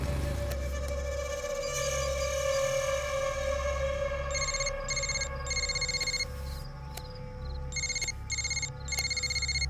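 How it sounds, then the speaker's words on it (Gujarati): A mobile phone ringtone for an incoming call plays steadily over a humming background, its repeated bright electronic bursts pulsing in regular groups, loud and close with no talking. "ફોન આવે છે"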